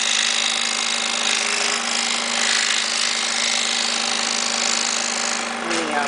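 A scroll saw cuts a reindeer ornament, a steady loud buzzing drone with a constant low hum running throughout, briefly changing near the end as the blade clears a corner.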